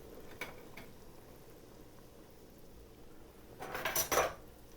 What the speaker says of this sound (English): So now let's add in our pork.